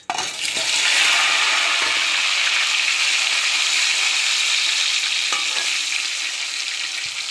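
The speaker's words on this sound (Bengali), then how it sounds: "কড়াই তেলটা গরম হয়ে গেছে, তো আমি এখন আলুগুলো ভেজে নেব।" Potatoes frying in hot oil in a wok, a loud, dense, continuous sizzle that holds steady throughout with a few faint clinks of utensils underneath.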